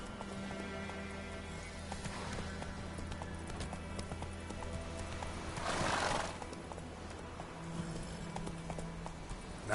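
Horse hooves in The Witcher video game pound in a steady galloping clip-clop, with a loud whinny rising over the hoofbeats partway through, all under continuous in-game background sound.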